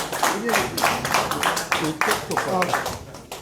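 Audience clapping to welcome a guest at a gathering, brisk uneven handclaps from a modest crowd, close and continuous, with a voice speaking over the claps.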